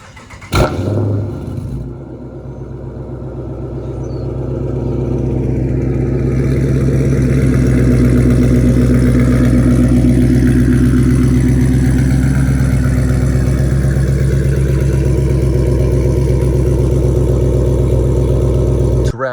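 Dodge Charger R/T with 3-inch race bullet resonators and a full 3-inch straight-pipe exhaust, warm start: a sharp crank catch followed by a loud, steady deep idle rumble that swells and holds without talk.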